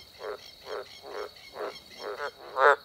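Little green tree frog croaking at a dam with water along the bottom, six evenly spaced raspy croaks over about three seconds, the last loudest, close and clear over a steady high insect-like whine.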